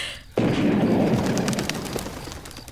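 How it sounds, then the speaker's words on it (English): A single sharp gunshot cracks out loud and close, followed by a long booming decay that fades over the next couple of seconds, with no voices over it. "That was a gunshot."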